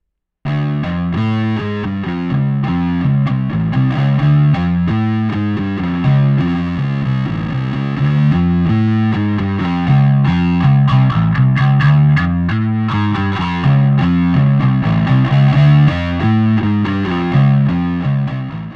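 A bass guitar runs through an Electro-Harmonix Deluxe Bass Big Muff Pi fuzz pedal with a high-pass filter ahead of the distortion, giving a loud, thick, buzzing riff of repeated low notes that plays continuously with no speech.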